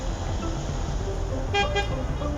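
Road traffic near a train station, with cars moving erratically close behind and ahead of one another: a steady, loud roar of passing engines and a short horn toot partway through. No one speaks.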